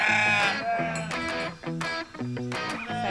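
Thin-wool Palu sheep bleat repeatedly in a flock, several overlapping wavering calls from nearby animals in quick succession, fairly loud and close.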